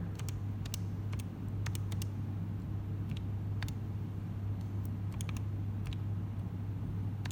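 Buttons being pressed on a graphing calculator, sparse light clicks in short bursts, faint against a constant low hum, with no talking.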